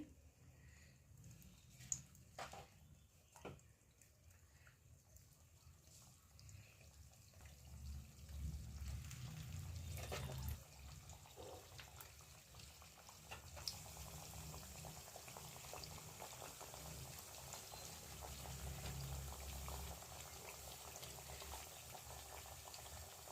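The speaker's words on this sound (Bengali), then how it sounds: "হিটটা একদম বাড়িয়ে দেওয়া চলবে না, একদম কমের মধ্যে আস্তে আস্তে ফ্রাই হবে" Vegetable kachori deep-frying slowly in plenty of hot oil over low heat, giving a soft, steady bubbling and crackle that runs the whole time with no voices.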